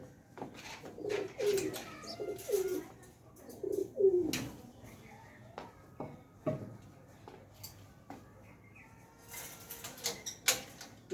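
Pigeons coo softly in low, repeated throaty phrases, with occasional fluttering and tapping sounds around them.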